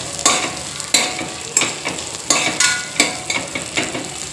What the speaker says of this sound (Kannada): ಸೊ ಈಗ ಈರುಳ್ಳಿ ಚೆಂದಾಗಿ ಬೇಯಿಸ್ಕೊಳ್ತೀನಿ.